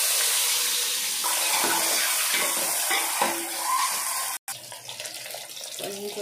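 An egg frying in oil in a pan on a stove for egg biryani, giving a loud, steady, dense hiss and sizzle close up that continues throughout with small shifts and a brief dropout.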